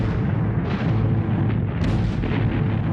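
Heavy artillery guns fire in a dense, rumbling barrage, deep booming blasts merging into a continuous loud roar with no pauses.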